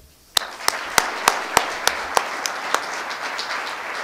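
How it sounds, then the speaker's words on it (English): At the Wings Club annual meeting, sharp, evenly spaced claps ring out close by, about three per second, over a growing wash of audience applause for the new club president that softens toward the end. "a round of applause for the new Wings Club president."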